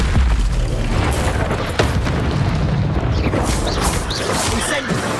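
An ice spell, Glacius, is cast during a busy Hogwarts Legacy battle, its booming impact lost in a dense, loud wash of combat blasts, crashes and magical effects that never lets up.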